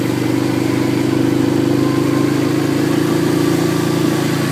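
An 800 cc vehicle engine runs at a steady idle with a continuous, even droning hum and vibration throughout, close by and with no voices.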